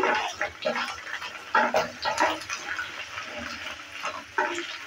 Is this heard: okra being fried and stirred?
yes